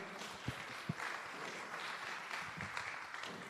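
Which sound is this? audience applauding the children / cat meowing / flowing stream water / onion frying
audience applauding the children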